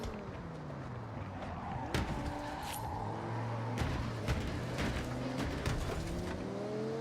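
McLaren engine in the Forza Horizon 6 racing game, a steady droning hum with rising and falling pitch sweeps as the car shifts and revs, joined by a few sharp knocks and clatters, with no talk.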